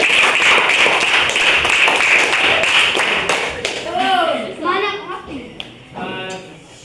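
Schoolchildren in a classroom clap together in a rhythmic clapping game, loud dense claps for about four seconds, then the clapping gives way to children's voices chattering.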